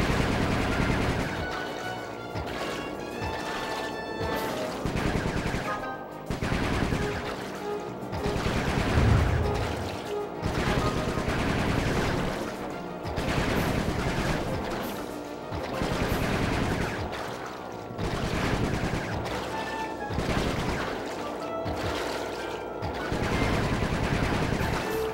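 Repeated bursts of gunfire in the stealth action game Sly 3: Honor Among Thieves, loud rattling volleys and single booming shots recurring steadily throughout, with no talking over them.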